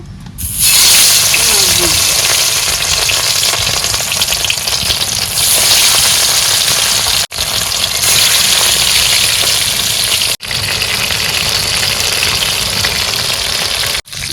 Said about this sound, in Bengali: মাছ ভাজা হয়ে গেছে এবার তুলে দিই